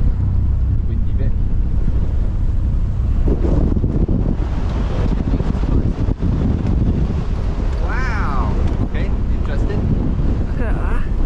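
Strong wind on a sailboat in the Marlborough Sounds, a heavy, steady buffeting rush that batters the microphone throughout, with a few brief faint voices buried under the gusts.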